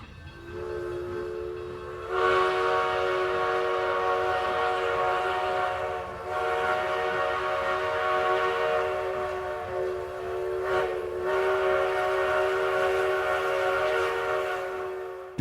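Durango and Silverton narrow gauge steam train on the old Rio Grande line, rolling steadily and loudly close by, its whistle sounding long sustained blasts with brief breaks, no voices.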